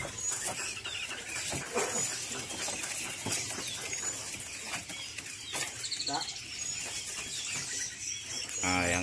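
Small songbirds sold at a bird market, prinias among them, chirp and tweet in quick, overlapping bursts amid a busy, noisy market bustle, while people talk in the background.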